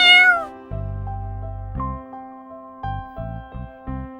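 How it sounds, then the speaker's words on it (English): A cat meows repeatedly, a high opening cry followed by a string of shorter mews in an uneven rhythm, close and clear over a low sustained musical tone. "This is cat. Baby cat is called kitten."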